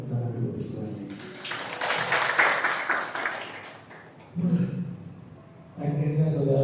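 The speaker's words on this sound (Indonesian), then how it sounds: "Tepuk tangan dulu Tuhan Yesus." Church congregation at a Sunday service applauding in praise, a swelling mass of clapping that peaks and then tapers, with a preacher's voice speaking before and after.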